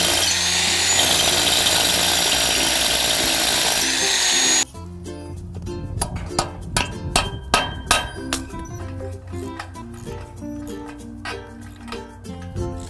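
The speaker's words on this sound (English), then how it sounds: "So hammer drill." Hammer drill boring anchor holes for a skillion carport's posts, in loud sustained bursts of grinding percussive drilling that drop to a lower rumble with repeated short pulses partway through.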